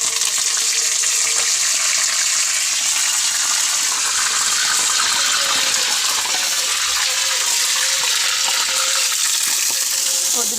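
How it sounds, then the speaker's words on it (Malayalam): Onions and curry leaves fry in coconut oil in a pan, a loud, continuous close-up sizzle with steady crackling and no break throughout. "ഉള്ളി മുരിഞ്ഞ് 2 വേപ്പിൻ്റെ ഇല ഇടുന്നു."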